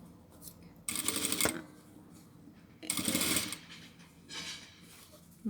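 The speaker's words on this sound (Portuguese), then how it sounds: "eu vou passar uma costura aqui" A sewing machine runs in two short bursts, stitching a seam to join strips of fabric, close and fairly loud, with quiet pauses between the runs.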